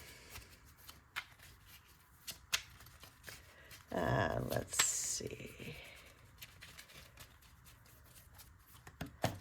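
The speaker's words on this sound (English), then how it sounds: "I like to shuffle until I get jumpers" Tarot cards being shuffled by hand, a dense riffling burst of about two seconds near the middle, with scattered card handling before and after and a voice speaking briefly.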